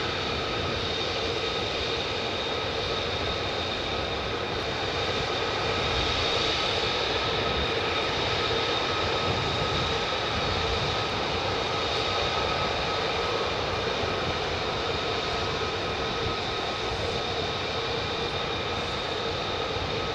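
Military jet aircraft at RAF Lakenheath, F-15s or F-35s, approaching as a steady, broad engine roar that holds at high level for the whole stretch, with a faint high whine running through it and no talk.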